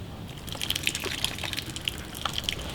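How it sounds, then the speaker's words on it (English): Water drains from cooked pasta through a holed pot lid, giving faint, irregular splashes and drips over a soft trickling background. "fortunately it's got a few holes on this, so we can just drain out the pasta"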